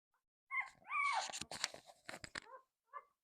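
Young bully breed puppies, nursing from their mother and bottle-fed, let out a few high, thin whimpers and short whines up close, then a brief final squeak after a pause.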